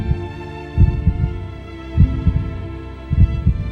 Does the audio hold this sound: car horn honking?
no